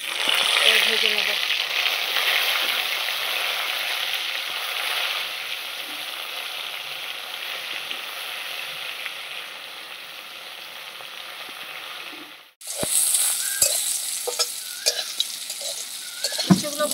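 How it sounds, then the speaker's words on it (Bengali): Salted, turmeric-coated bitter gourd pieces sizzle and crackle in white oil in a wok, a loud continuous frying hiss that drops abruptly, followed by clinks and scraping of stirring. "উচ্ছেগুলো ভাজা হয়ে গেছে"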